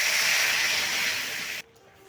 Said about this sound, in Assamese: কেঁচা জলকীয়া দুটা দিছোঁ আৰু পিঁয়াজ দি মই ভাজি ল'ম